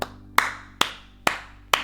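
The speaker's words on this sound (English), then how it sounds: "applause to Probe" Four slow, evenly spaced hand claps from one person close by, each a sharp crisp smack followed by a short fade, with no other sound between them.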